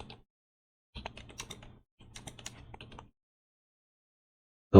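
Typing code on a computer keyboard in two short bursts of close key clicks separated by silence, followed by a single loud click at the end, no talk.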